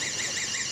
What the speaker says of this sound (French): Ah, c'était parce que la porte là-bas est ouverte, non? L'alarme.